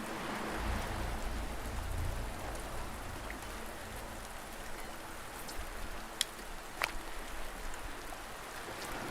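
Rain falls steadily in the video game Rebel Path, a constant soft hiss of rain on surfaces with a couple of sharper drip ticks, no voices.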